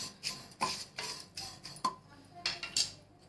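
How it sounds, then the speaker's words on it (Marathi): Factory-roasted poha is dry roasted in a pan, giving a quick run of rhythmic metallic scrapes and clinks of a spoon against the pan, close and fairly quiet, with no sizzle behind them. "आता त्याच्यामध्ये हे पोहे आपण भाजून घेणार आहोत चांगले दोन मिनटं"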